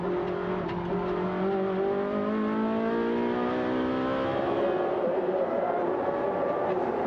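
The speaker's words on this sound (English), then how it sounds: "So there is Carzo, you can hear him working the gearbox here." A race car engine at a Trofeo Pirelli race at Brno revs up and down through gear changes, its pitch climbing and dropping while a commentator talks over it.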